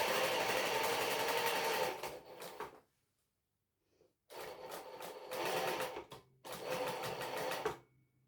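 Sewing machine stitches a dungarees seam in close, loud bursts of rapid needle chatter, pausing for a quiet gap before several more runs of stitching.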